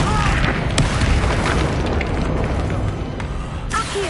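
A Bombarda spell explosion in the wizarding game Hogwarts Legacy, a heavy booming blast with rumbling debris that stays loud and continuous, while a voice talks briefly underneath.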